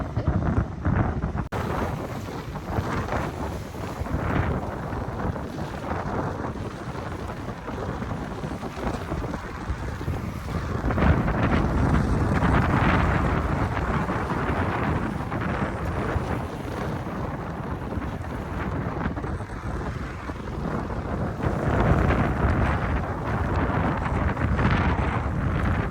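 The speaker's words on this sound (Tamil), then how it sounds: "ஆனால் காற்று வந்து சரியான காற்று" Strong, gusty wind buffets the microphone beside choppy water at Ladybower Reservoir in the Peak District, a continuous loud roar that swells in waves with no voices.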